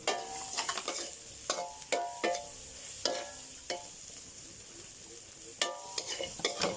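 Beetles being stir-roasted in a pan, with sharp, regular spatula scrapes and clacks over a faint sizzle, close up and fairly quiet, no speech.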